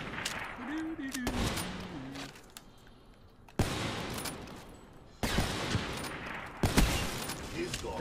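Bursts of automatic gunfire in a Hardpoint match of a shooter video game, coming in sharp loud rattling volleys separated by quieter gaps, with voices talking over the action.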